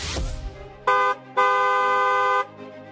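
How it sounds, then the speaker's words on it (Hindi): Car horn sounding in two distinct honks, a short toot followed by a longer sustained blast, loud and close with brief road noise around them. "इसे लेकर हॉर्न बजाया जाए।"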